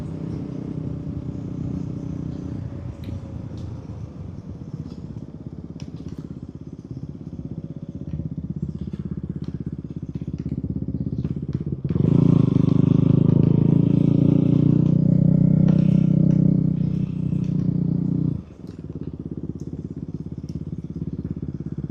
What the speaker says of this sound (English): at 80 miles an hour, you're laboring the engine pretty hard